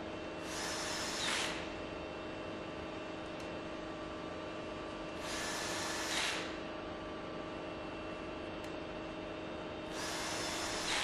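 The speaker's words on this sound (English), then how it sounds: "the suction chamber is bolted back together with the 8 screws" Screws being driven with a power tool to bolt together the suction chamber of a NOV Mono EzStrip progressive cavity transfer pump, three separate bursts of driving hiss over a steady mechanical hum.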